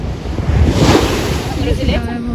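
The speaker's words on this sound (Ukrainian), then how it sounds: "хочемо тут фотографуватися з такі хвилі. Море сьогодні також не штиє." Rough sea surf rolls in close by on a blustery day, with a loud continuous wash of breaking waves and wind buffeting the microphone.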